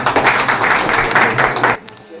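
An audience claps together at a felicitation event for newly elected local representatives in Dharmasagar, a dense burst of applause that runs steadily and then cuts off abruptly near the end.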